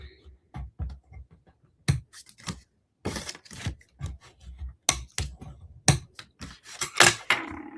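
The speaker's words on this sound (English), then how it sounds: "I'm going to burnish these really well" Folded paper card being burnished, a run of short scraping and rubbing strokes in irregular rhythm, close and fairly quiet with no talk.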